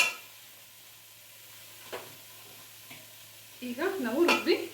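Masala for goat head curry fries in a pan. A quiet sizzle with faint scrapes gives way to a burst of vigorous stirring and louder sizzling near the end.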